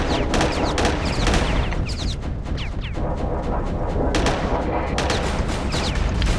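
Rapid, dense spaceship weapons fire during a Starfarer space battle, including Vulcan cannon hits and explosions, a continuous loud barrage of overlapping shots and impacts.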